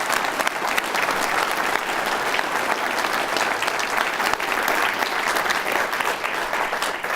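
Sustained audience applause at a university State of the University address, dense and even clapping from a large crowd continuing steadily throughout with no talk over it.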